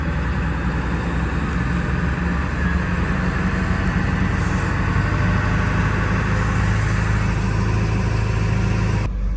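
A pickup truck engine runs loud and close, its low rumble holding steady for several seconds before cutting off abruptly near the end.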